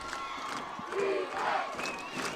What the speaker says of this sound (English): Crowd chanting defense on the Regina side.